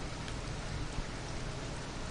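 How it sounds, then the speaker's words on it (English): Steady rain falls as a weather effect in a PS4 game, a soft, even hiss of drops with no other sounds. "you see the weather effect where it's raining now"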